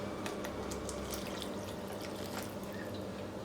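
Water pouring steadily into a pan of Kerala ulli theeyal onion curry while it simmers, a faint continuous trickle with no talk.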